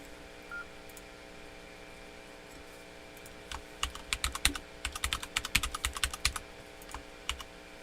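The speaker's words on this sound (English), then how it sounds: "Just typing up something in Discord." Quick bursts of typing on a computer keyboard, with sharp, uneven clicks clustering near the end over a steady hum of radio equipment.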